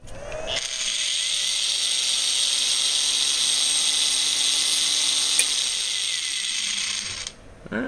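A belt sander runs steadily for about seven seconds on a backpack solar power system, a loud continuous whine with a brief tick midway, then cuts off abruptly near the end.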